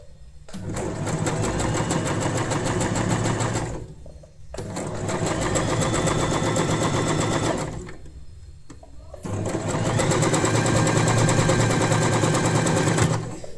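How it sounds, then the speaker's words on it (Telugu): An Usha Janome Wonder Stitch sewing machine runs a normal stitch in three long, loud, evenly rattling passes, each broken by a brief pause, heard close up. "ప్రెషర్ ఫుట్ తొక్కుతూ వస్తే స్టిచ్చెస్ పడుతూ ఉంటుంది మీకు"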